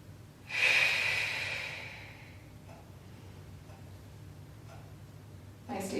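During a gentle Pilates session, one deep breath is heard up close: a strong airy exhale that fades over about two seconds. Quiet stillness follows, then another breath begins at the very end.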